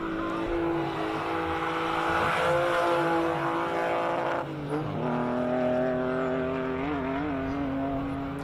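A classic race car engine strains and revs as it climbs at the Simola Hillclimb, wheels spinning, pitch wavering and rising through the gears, fairly loud and continuous.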